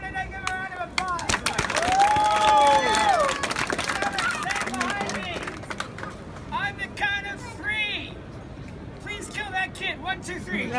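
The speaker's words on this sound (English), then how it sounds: "Give him a round of applause." A street audience at a street performer's show in Prague claps and cheers, a loud burst of applause that swells and then gradually thins, with crowd chatter and voices continuing around it.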